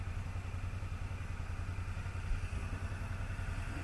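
A Suzuki V-Strom 650 motorcycle engine runs steadily on a break-in ride, a continuous low throbbing hum with wind rush, constant and unbroken.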